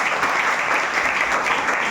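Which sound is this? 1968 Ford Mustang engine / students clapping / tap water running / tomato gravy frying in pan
students clapping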